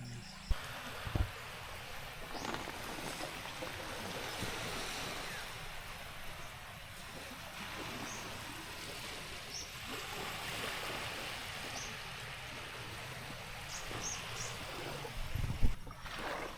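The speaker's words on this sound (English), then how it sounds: "We're just listening to the waves" Soft, continuous wash of ocean waves on a deserted beach in Bolivia at night, heard at a distance, a low rolling hiss with a couple of faint knocks, no voices.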